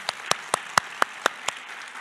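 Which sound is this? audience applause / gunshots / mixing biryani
audience applause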